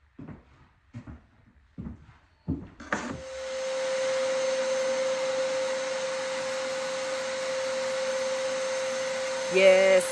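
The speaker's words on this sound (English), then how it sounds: "I can already tell that this sprayer uses more paint than actually rolling and using a paintbrush or a roller." Paint sprayer switching on after a few knocks and thumps, then running as a steady loud whir with a constant high tonal whine throughout, no voices present.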